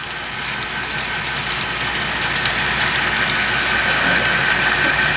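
Continuous whirring rumble of a model freight train rolling along track, steady and close, with faint rhythmic clicking and no voices.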